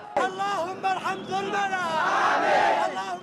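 A demonstrator at a street protest shouts loudly to fellow protesters, voice strained and raised, with crowd noise around him.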